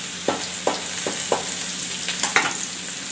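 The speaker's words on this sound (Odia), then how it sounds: "ଟିକେ ଫୁଟଣ ପକେଇ ଦେଉଛି।" Spice tempering sizzling steadily in hot oil for chole, a constant close frying hiss broken by rhythmic scraping taps of a spoon stirring the pan about every half second.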